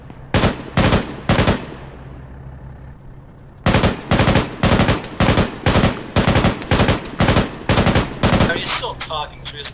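Loud, evenly spaced gunshots, three quick ones, a pause, then a steady run of about ten more in a regular rhythm, close and sharp, with a brief spoken exclamation.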